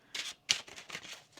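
Tarot cards are shuffled by hand in a soft, close series of quick riffling rustles and flicks, faint and alone with no talk.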